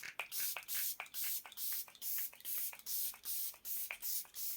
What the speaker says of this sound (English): I'm just going to bob a little bit of setting spray on.